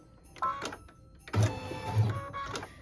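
An embroidery machine stitches an ornament base with string placement lines, making intermittent mechanical whirs and clicks in short bursts, close by and fairly quiet.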